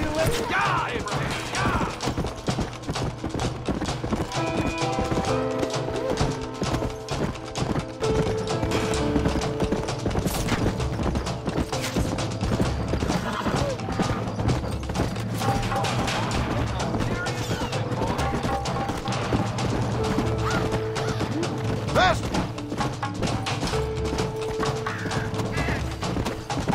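Horses galloping in Red Dead Redemption, fast continuous hoofbeats pounding under a dense game soundscape, with crashes and voices mixed in throughout.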